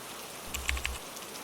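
Rain falls in a short burst of soft patters, a few brighter drops tapping close by over a low rumbling wash.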